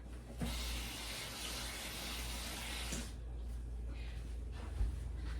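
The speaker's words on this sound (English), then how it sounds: "Wash my hands again." Water runs from a kitchen tap while hands are washed during chicken freezer-meal prep, a steady splashing stream for about three seconds that then cuts off, leaving quiet room sound with a faint clunk.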